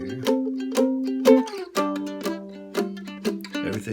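Mandolin playing the I chord of a 12-bar blues: a bright run of picked, strummed strikes in a loose rhythm, close and clear, with ringing tones between strokes and no talk.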